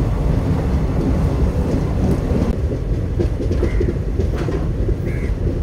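Ananthapuri SF Express train running out of Kollam Junction past buildings, a loud continuous rumble of wheels on rails with clattering, while a couple of bird calls sound faintly over it near the end.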